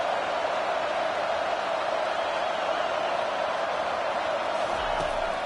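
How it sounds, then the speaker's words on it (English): A packed stadium crowd in the College Football 25 video game roars as a dense, constant wash of noise through the whole stretch, loud and unbroken, with an announcer's voice faintly mixed in. "listen to this crowd noise. This stadium is vibrating."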